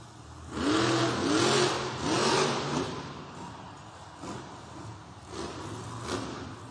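The Earthshaker monster truck, driven by Corey Rummel at a Monster Jam arena event in North Charleston, revs its engine in two loud roaring bursts, followed by lower, quieter rumbling revs against the arena's background noise.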